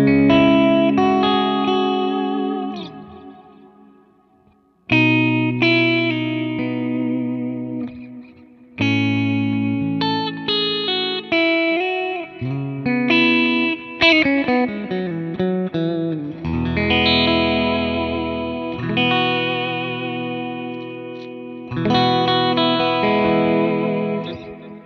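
Electric guitar played through a Kemper profiler with distortion and natural reverb: sustained distorted chords and single-note runs ring out loud and close, with reverb tails and brief pauses between phrases, and no talking.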